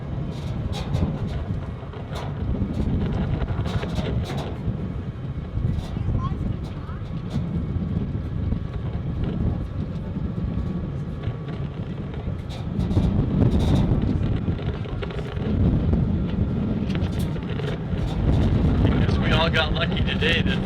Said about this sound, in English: Got lucky today that the wind's blowing this direction.